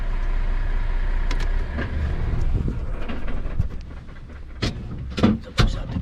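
A car rumbles and pulls away, its low engine and road noise blending with wind buffeting and a few knocks.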